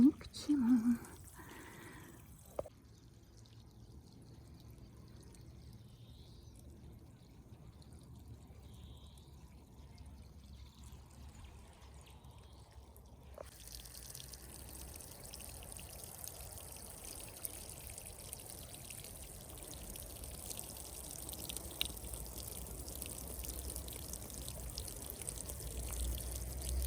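Water from a tank is poured onto strawberry plants in a garden, a soft continuous pouring and trickling that grows steadier partway through, with someone talking over it.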